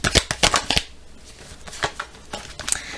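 Oracle cards are shuffled in a few quick, crisp bursts of papery flicking, close and fairly quiet, with short pauses between them.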